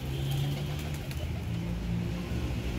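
A pigeon about twelve years old coos in low, rolling notes close by, steady over a dense background hum.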